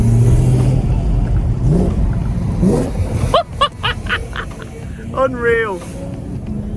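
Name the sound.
BMW E92 M3 Competition Pack engine accelerating while overtaking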